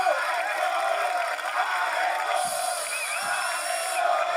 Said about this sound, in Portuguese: palmas pra essa final